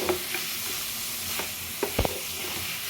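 Crab masala being stirred in a frying pan, a steady soft sizzle under repeated scrapes and clinks of the spoon against the pan, closer knocks near the end, no talking.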